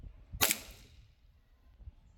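A single sharp, quiet snap of a Redwings Rossi gas blowback airsoft pistol shot into a can, with a brief hiss, followed by near silence.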